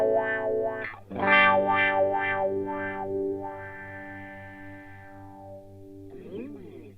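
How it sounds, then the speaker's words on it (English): Electric guitar played through a Cry Baby Mini Wah pedal on its standard setting, distorted notes sweeping up and down in a vocal wah tone, then a sustained chord fading out before a final short strum. "this is the standard Crybaby sound, the one with the largest frequency range"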